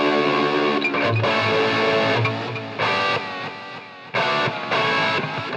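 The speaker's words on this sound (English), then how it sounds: "you hear some wild modulation come in" Roland RE-3 Space Echo tape echo with its warmth control turned up, adding warbling tape-age modulation to a sustained, distorted tonal instrument sound that plays loud and continuous with a few abrupt level shifts, no voices.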